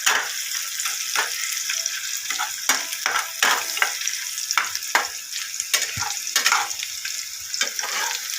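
Onions frying in oil for beresta give off a steady, close sizzle, broken by sharp clatters of stirring through the pan, with no voices.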